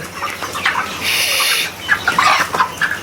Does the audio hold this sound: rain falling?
no